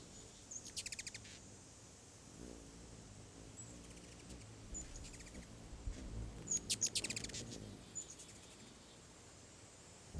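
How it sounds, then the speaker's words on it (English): Ruby-throated hummingbird gives rapid, high squeaky chirps in short quick bursts, faint and somewhat distant over a quiet outdoor background hiss. "The vocalizations of the ruby-throated hummingbirds are rapid, squeaky chirps"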